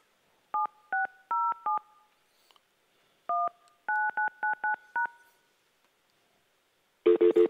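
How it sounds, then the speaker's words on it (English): Telephone keypad DTMF tones dial a phone number, two quick runs of crisp beeps with a pause between them, followed by a brief louder burst of ringing tone at the end. "So we're going to put in your phone number."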